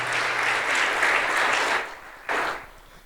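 A church congregation claps together as an offering to Christ, producing loud, dense applause that fades, followed by a brief second burst that trails off.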